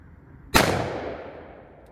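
One sharp, loud shotgun blast while sighting in a red dot for turkey season, with a long rumbling decay fading afterward and no talk.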